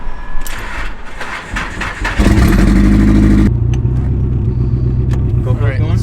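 A Nissan S13 with an SR20DET engine cranks and fires up, then settles into a loud, throaty idle with some revving; a person talks briefly over it.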